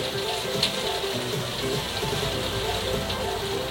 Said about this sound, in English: Sorry, I apologise for the rain.